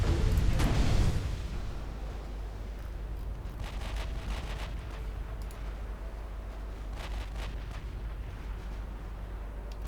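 A big naval gun blast booms at the start of a battle between warships in Ultimate Admiral Dreadnoughts, with a loud low rumble. It fades into a steady drone, and a few fainter distant shots follow.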